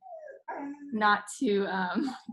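A dog barks and yips in short bursts that rise into a howl-like whine over roughly two seconds, close and fairly loud.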